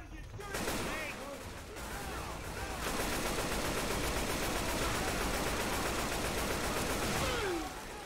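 Rapid gunfire from the video game Left 4 Dead 2, in the Blood Harvest farmhouse finale, rattles almost without a break for several seconds, fairly loud, with brief voices cutting in.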